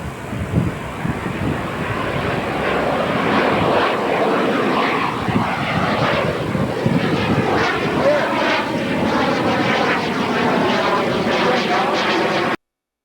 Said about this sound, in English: now I've just put the clip up there for the SIPA jet